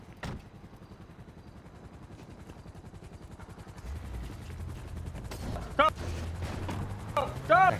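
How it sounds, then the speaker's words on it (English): Video game helicopter arriving overhead, a rapid rotor chop building steadily and growing louder with a deep low drone, broken by sharp clicks and short bursts near the end. "The helicopter just got there and saw it."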